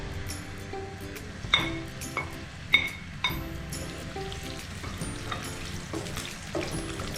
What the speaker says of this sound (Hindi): ये प्याज हमें इतनी देर तक फ्राई करनी है कि ये गोल्डन ब्राउन हो जाए।